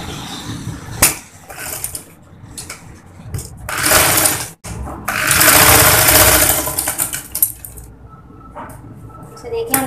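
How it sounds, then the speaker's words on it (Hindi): A sewing machine stitches elastic onto the waistband of ladies' pajama pants, running in short bursts and longer whirring runs separated by pauses with fabric handling. "इस पर इस तरह सिलाई लगा के इसे पक्का कर देंगे"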